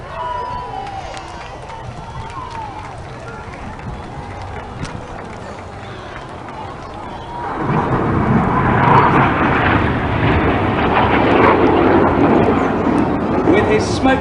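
Red Arrows jets flying a display manoeuvre at the Cleethorpes Airshow 2014, a broad roar that swells louder about halfway through and holds steady, with a commentator talking over it throughout.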